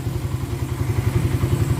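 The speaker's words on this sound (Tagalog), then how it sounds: "Ganda na tunog ng makina." A small motorcycle engine idles steadily after a carburetor refresh, a loud, close, even low putter with rapid regular pulses and slight clatter, no voices.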